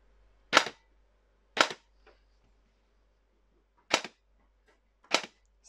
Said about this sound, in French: Le bruit de la Gearbox est nickel, en full.